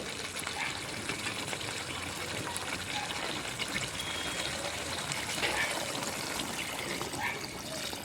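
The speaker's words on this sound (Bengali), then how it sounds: "এখন জল দিয়ে দেব।" Water poured into a pot of spicy goat (mutton) curry after the meat and fat were fried, making a steady, hissing gush and trickle that runs continuously at moderate loudness.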